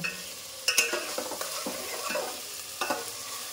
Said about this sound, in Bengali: এই দেখো মাংসগুলোকে দিয়ে দিচ্ছি। এবার ভালোভাবে কষিয়ে নেব 5 মিনিট